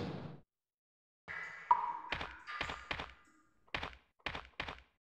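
Boulder rolling in the Resident Evil video game, heard as a series of sharp, hollow thunks and knocks in uneven clusters, close and fairly loud, following a brief tone with silence between hits.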